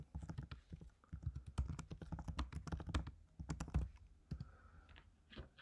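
Someone types on a computer keyboard, a close stream of quick, uneven key clicks in short bursts with brief pauses, fading toward the end.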